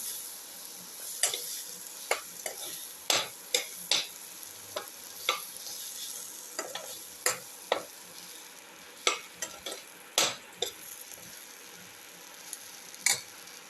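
A spoon stirs a pumpkin, tomato and brown rice mixture in a pan, scraping in repeated irregular strokes over a quiet, steady sizzle.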